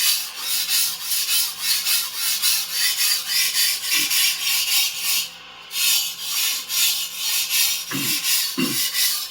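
Antique Dufresne chef knife, old and worn, having its edge sharpened: steady rhythmic rasping strokes rub back and forth about twice a second, close and even, with a few soft knocks near the end and no talk.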